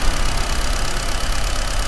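A 2022 Honda Amaze four-cylinder engine idles with the air conditioning running, a steady low rumbling hum heard for about two seconds, close and even, with no talk.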